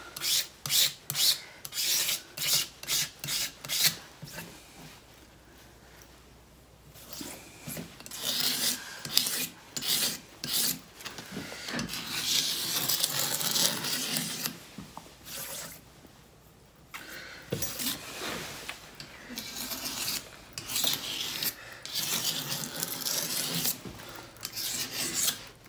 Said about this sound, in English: I scrape that.